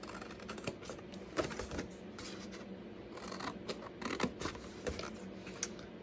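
Scissors snipping through paper while making a fun fold gift card holder, in a quick run of short, crisp cuts at close range, with soft rustling between the snips and no voices.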